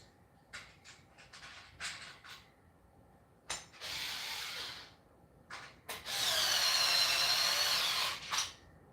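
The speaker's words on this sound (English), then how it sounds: "I got a little drill here, and I'm going to use that to tighten everything up." A small cordless drill tightening bolts on a RitFit M1-C Smith machine during assembly, several short whirring bursts followed by two longer sustained runs, close and loud, with brief pauses between.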